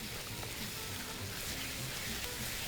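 Minced meat (keema) frying with spices in a pan gives a steady, fine sizzle, a close and even hiss that runs on without a break.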